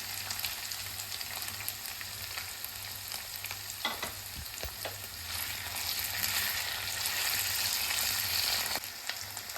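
Potato pieces with chopped green chilli and ginger fry in hot oil for sabudana khichdi, giving a steady close sizzle with stirring scrapes, with no talk over it.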